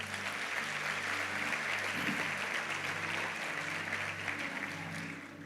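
A church congregation applauds during a seminar service, steady, fairly faint clapping spread through a large room over a low sustained hum of music or organ tones.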